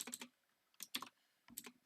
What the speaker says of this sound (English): my typing's terrible